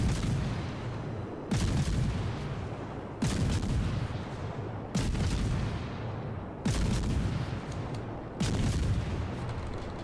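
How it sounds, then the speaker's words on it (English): Naval shell fire in World of Warships, six heavy booming salvos at steady intervals of nearly two seconds, each a loud deep blast fading into a rumbling tail, with no voices. "Jesus Christ, the Mogador shells are real. Drained about half my health."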